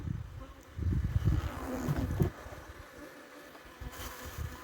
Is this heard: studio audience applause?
no